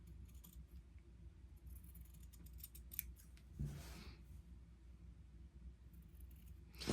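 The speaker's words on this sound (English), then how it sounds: "I'm just going to use the scissors for a minute so that I'm extra careful here." Scissors snip steadily through T-shirt fabric at close range, with soft crunching cuts and a low background hum; no one speaks.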